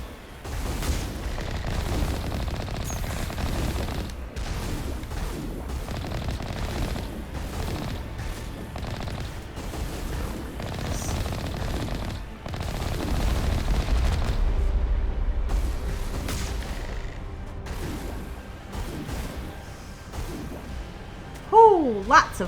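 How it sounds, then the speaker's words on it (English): Rockets streak and explode in a Mass Effect Legendary Edition battle on Noveria: a steady stream of gunfire-like bursts and booms, with louder blasts swelling midway and at the end, while a voice talks over the action. "Oh, lots of rockets."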